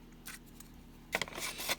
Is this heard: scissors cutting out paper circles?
yes